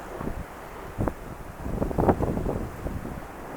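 Wind gusting by the sea, buffeting the microphone as a steady rushing roar with a few stronger bursts throughout.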